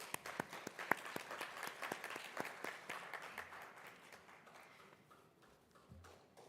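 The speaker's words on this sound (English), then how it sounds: "Let's give our last panelists another round of applause" A conference audience claps for the final panelists, with sharp individual claps at first that thin out and fade as the applause dies down, fairly faint and distant.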